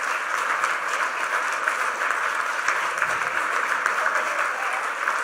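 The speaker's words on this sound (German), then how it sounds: "der Applaus ist herzlich" A studio audience claps warmly and steadily for two talk-show guests, Ilka Steinhausen and Dr. Kühn, a dense, even wash of many hands that holds at one level for about five seconds.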